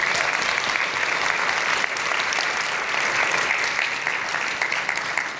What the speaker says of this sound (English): give yourself one more round of applause.